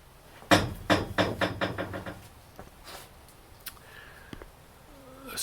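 Rapid series of about eight sharp metallic knocks from angled bracing inside a Triumph TR7 door striking the window winder, loud and close, followed by a few scattered fainter taps and squeaks.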